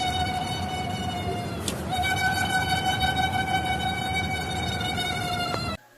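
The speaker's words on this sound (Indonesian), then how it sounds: "Ini adalah suara turbin ventilator yang tidak pernah dirawat" A steady high-pitched metallic whine drones continuously, like a spinning ventilator turbine squealing, with a brief knock midway before cutting off; an unmaintained roof turbine ventilator spinning.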